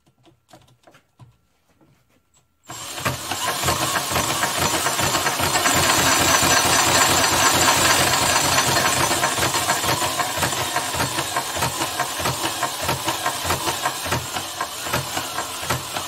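A McCormick Deering 3 hp engine with a Wico EK magneto starts after a few quiet clicks and then runs loudly and close, with a steady rapid chugging and hissing that continues to the end.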